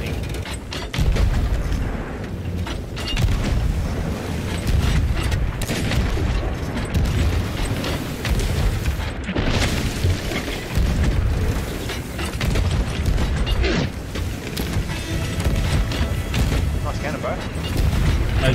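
Ship cannons booming in a Sea of Thieves naval battle, with repeated heavy blasts and rumbling impacts spread across the clip, mixed with players talking over the gunfire.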